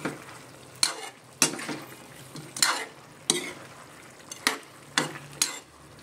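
Chicken adobo stirred in a frying pan, with a spatula scraping and clanking against the pan in about eight regular strokes over a soft background sizzle, close and moderately loud.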